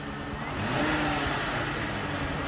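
A Chevrolet Trailblazer engine runs steadily nearby with a constant low rumble and a slight rise in level, no voices present; the SUV was flooded by Hurricane Ian.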